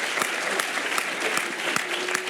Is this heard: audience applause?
yes